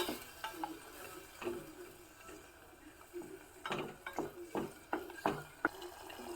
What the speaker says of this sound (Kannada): ಈ ಮಸಾಲವನ್ನು ಸ್ವಲ್ಪ ಹಸಿ ವಾಸನೆ ಹೋಗೋವರೆಗೂ ಚೆನ್ನಾಗಿ ಸ್ವಲ್ಪ ಹುರ್ಕೋಬೇಕು